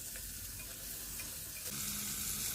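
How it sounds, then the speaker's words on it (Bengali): Potatoes and carrots frying in oil for a vegetarian paneer dish are stirred in the pan, producing a dense, continuous sizzle with soft scraping strokes, close and steady throughout, without speech. "আলু গাজরটা ভালো করে কিছুক্ষণ আমি নেড়ে চেড়ে ভেজে নেব।"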